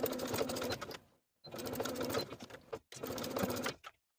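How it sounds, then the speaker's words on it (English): A sewing machine stitches a fleece cuff onto a sweatshirt sleeve with a 5/8 inch seam, running in three steady bursts separated by brief pauses, close and clear with no talk. "we're going to sew the cuff to the bottom of the sleeve with a 5/8 inch seam allowance"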